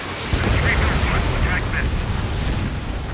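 Missile explosion in the Ace Combat 7 video game during an aerial dogfight: a loud, rumbling blast with a heavy low-end roar that sets in sharply and then sustains, with faint radio-like voices in the background.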